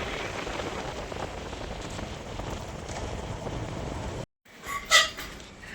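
Light rain patters steadily outdoors in Gujarat's Bhadargadh area near the Vithroy hills, with some wind, then cuts off abruptly; a brief, louder rustling thump follows.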